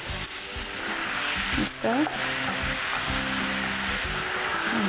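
Cubed eggplant frying in a pan throws off a loud, continuous sizzle, with occasional stirring clatter and a brief voice speaking over it.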